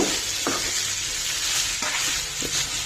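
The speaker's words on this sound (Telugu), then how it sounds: "కొంచెం ఫ్రై అవనిద్దాం." Coconut and bean curry frying with salt in a pan, a steady close sizzle with a few soft scraping stirs of a spoon against the pan.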